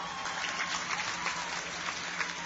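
A hall crowd claps for honoured students in a short burst of steady applause, fairly faint and slightly distant, with no voices over it.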